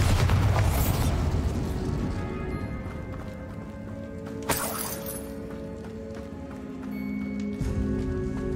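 A Bombarda blasting spell goes off in Hogwarts Legacy, a loud booming burst at the start that fades into crumbling debris and a ringing tail, with a second sharp crack midway.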